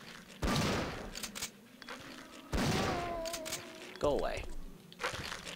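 Loud gunshots fired at a crawling zombie in Resident Evil 3: Nemesis, three sharp blasts spaced about two seconds apart, each ringing briefly, with someone speaking in between.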